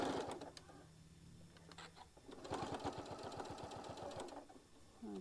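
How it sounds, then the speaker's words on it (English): A sewing machine stitching back and forth across zipper tape on a tote bag gives a fast rhythmic mechanical chatter in short bursts, with brief pauses and small clicks between runs. "I'm going to carefully stitch a couple, go back and forth right here in that zipper tape"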